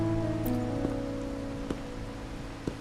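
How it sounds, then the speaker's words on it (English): Steady rain falling in the video game Wuthering Waves, a soft continuous patter with a few sharper drops striking a surface, moderate level under a low tonal musical hum. "Or are you simply passing the time until the rain ends?"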